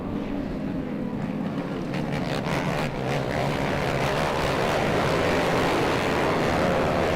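Modified off-road race karts on a short course at King of the Hammers accelerate together into turn one, a dense, steady roar of several engines heard from a distance with a broad rumbling wash.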